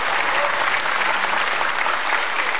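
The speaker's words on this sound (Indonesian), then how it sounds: "Boleh kasih tepuk tangan kalau begitu." A studio audience at a televised political talk show breaks into dense, steady applause. The clapping is loud and fills the whole short stretch, with no talking over it.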